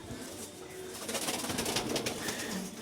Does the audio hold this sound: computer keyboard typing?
no